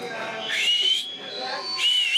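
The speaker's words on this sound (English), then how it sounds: "I learned how to whistle." A man whistles two short rising notes with a pause between them, close and clear, in a brief solo whistle.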